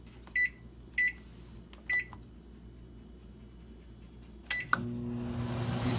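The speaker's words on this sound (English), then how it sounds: "That way the steam can evaporate and cook the egg in the microwave." Microwave oven poaching an egg: three short beeps sound from the keypad, then two more, and the oven starts up with a steady low hum that continues to the end.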